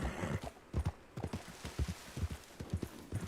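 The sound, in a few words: horse hooves in Red Dead video game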